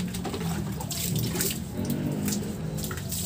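Water is poured and splashes continuously over the rear of a Honda Click 125 scooter during washing, a steady close trickle and spatter with no clear talking.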